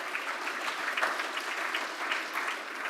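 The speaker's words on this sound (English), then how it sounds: "Let's give them a round of applause" A crowd claps steadily for a few seconds, a dense, even patter of many hands with no voices standing out.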